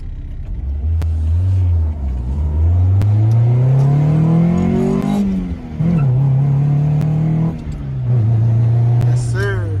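An Acura Integra converted to a manual gearbox revs hard through the gears, engine pitch climbing and then dropping at each shift, with loud interior rumble and people talking over it.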